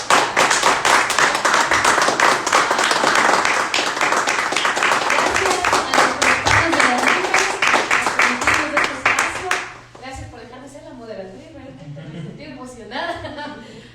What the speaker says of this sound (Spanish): les pido un fuerte aplauso para